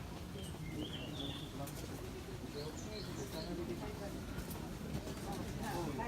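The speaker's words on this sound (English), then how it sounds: "the birds are singing and the sun is out" Birds sing and chirp at a busy outdoor shrine lined with torii gates: scattered bright calls over a steady bed of crowd noise and low chatter from nearby people.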